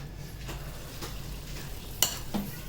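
Gulgule batter frying in hot oil, a soft continuous sizzle close by with faint stirring scrapes and one sharp utensil clink near the end.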